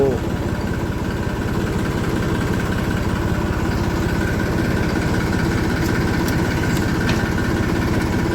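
A tractor engine runs steadily while slowly pulling a trolley loaded for a sugar mill, giving a loud, continuous low rumble throughout.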